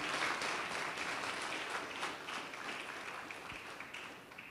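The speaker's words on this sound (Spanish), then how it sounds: "Démosle un fuerte aplauso a todas las personas que participaron." An audience claps steadily, a dense wash of applause that slowly fades, with no voices over it.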